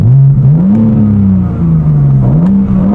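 A BMW's active exhaust revs steadily with a deep, throaty note, its pitch rising and falling in a few smooth swells, loud and close.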